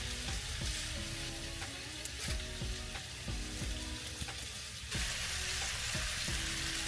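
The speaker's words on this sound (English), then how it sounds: "while my oxtails are browning" Oxtails browning in a hot pan, a loud continuous sizzle and crackle of frying meat with occasional scrapes and knocks of a utensil, steady throughout and without voices.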